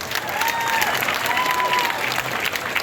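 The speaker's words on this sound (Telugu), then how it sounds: "ఒకసారి అందరం కూడా గట్టిగా క్లాప్స్ కొడదాము" A crowd at a mega job fair claps loudly and steadily, a dense wash of applause that holds for the whole stretch.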